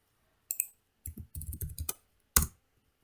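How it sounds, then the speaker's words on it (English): Quick bursts of key clicks from a computer keyboard come during Python programming work, several short clusters of typing separated by pauses and ending in one sharper keystroke, close and clear. "I'm typing here."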